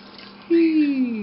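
Two cups of water poured into a pot for cooking quinoa, a steady close pour starting abruptly and running continuously to the end, with a rising gurgling tone as the vessel fills.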